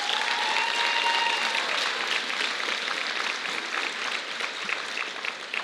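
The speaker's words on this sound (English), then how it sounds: "Let's give them one more round of applause for being such great ambassadors for our city." Steady audience applause fills a hall at a city ambassador coronation ceremony, sustained and fairly even for several seconds with many hands clapping together.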